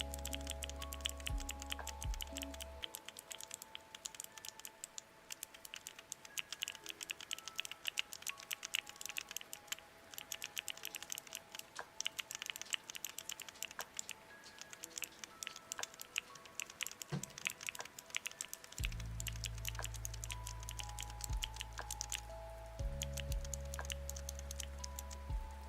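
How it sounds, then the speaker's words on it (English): Rapid computer keyboard typing clatters continuously as a sound effect, with dense, even keystrokes and faint steady tones humming underneath. "So now she's like typing,"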